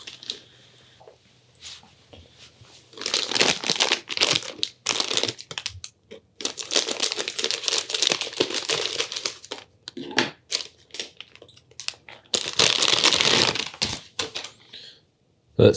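A small package unwrapped by hand, with bursts of crinkling plastic and crunching separated by short quiet pauses, loud and close.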